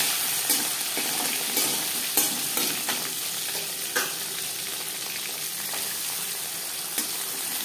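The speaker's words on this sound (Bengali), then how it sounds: "বেশ খানিকটা রিফাইন্ড অয়েল গরম করে নিয়েছি। এবার দিয়ে দেব ম্যারিনেট করে রাখা মাছ।" Marinated puti fish fry in hot refined oil with a loud, continuous sizzle and crackle, punctuated by occasional stirring taps; close and steady, with no one talking.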